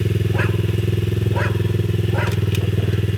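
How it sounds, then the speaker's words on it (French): A small motocross motorcycle engine runs close and loud with a fast, even putter, and its throttle rises in a few brief blips over the steady idle. "le truc avec la petite moto de Momo c'est qu'elle est assez nerveuse"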